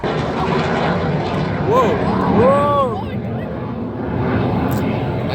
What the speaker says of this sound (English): The aircraft is now turning left to perform its first maneuver, the loop.